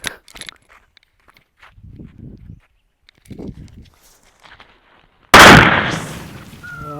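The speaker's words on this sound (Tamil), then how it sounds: "அட அப்பா வெடித்ததுலே இதாங்க முறையான வெடி" A Tamil country firecracker (naattu vedi) goes off in one loud, close blast that rings and decays over a couple of seconds, after quiet footsteps and shuffling outdoors during Diwali testing.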